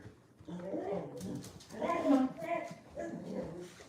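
A dog gives a few short barks and whimpering yelps indoors at moderate volume, mixed with a person talking.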